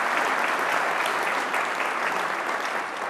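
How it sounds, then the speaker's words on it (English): Sustained, loud applause from a large conference audience fills the room for a sponsor, Blue Cross Blue Shield, at the Mackinac Policy Conference, steady and dense throughout with no break. "A big round of applause for our diamond sponsor"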